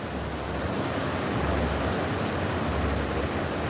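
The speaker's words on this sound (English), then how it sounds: "Just listen to the ocean." Ocean surf rolls onto a beach in Sao Paulo, a steady close wash of broadband roar with a gentle swell midway and faint wind buffeting, no voices.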